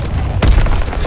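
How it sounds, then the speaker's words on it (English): An artillery shell explodes in a WW2 battlefield video game, a single deep, loud boom with a rumbling low thud that lingers briefly over background battle noise. "Incoming enemy artillery."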